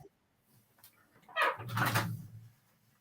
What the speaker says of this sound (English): hear dogs uh, outside